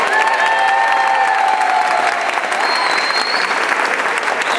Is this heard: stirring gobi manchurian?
no